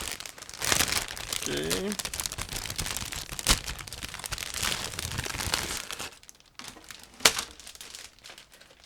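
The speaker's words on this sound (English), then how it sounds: "all the parts are packed into this resealable plastic bag, so we just need to open it and take a closer look." A resealable plastic bag holding ICM 1/35 AH-1G Cobra model kit parts is opened, giving bursts of close crinkling and rustling plastic, with a short spoken word near the start.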